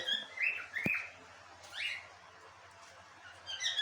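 Lovebirds and cockatiels chirping in short bursts with quiet pauses between them, a few sharp calls against a faint background.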